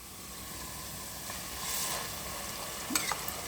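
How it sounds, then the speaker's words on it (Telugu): A ground paste of coconut, coriander, ginger, garlic and tomato fries in hot oil, sizzling steadily at close range while a spoon stirs it, with a few sharper scrapes near the end. "ఇది ఇప్పుడు ఈ ఆయిల్ వేసి బాగా ఫ్రై చేద్దామండి."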